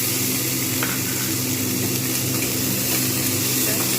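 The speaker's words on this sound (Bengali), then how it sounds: "হালকা করে আমি ভেজে নেব।" Mustard seeds fry in a pan for mango chutney, giving a loud, constant sizzle that holds steady throughout.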